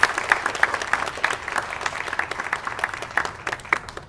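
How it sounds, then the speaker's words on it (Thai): Wedding guests at a Thai wedding reception with a Japanese-speaking MC applaud the couple, a dense, steady patter of many hands clapping that fills the room without pause, moderately loud and close. "ขอเสียงปรบมือกับทั้งคู่อีกครั้งหนึ่งนะคะ"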